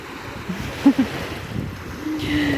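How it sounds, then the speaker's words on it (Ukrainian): Black Sea waves wash onto a beach in Odesa in a soft, continuous surge, with wind buffeting the microphone and a couple of brief splashes. No one talks. "Привіт, море! Ти сьогодні прозоре, чисте, як завжди."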